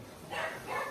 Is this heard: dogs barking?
yes